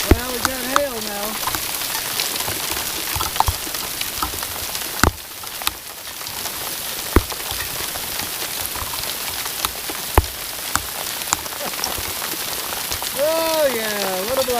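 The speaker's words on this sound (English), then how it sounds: "Well, we got hail now." Rain and hail fall steadily on a night camp shelter, a dense hiss broken by sharp individual impacts, with a few brief voice sounds near the start and end.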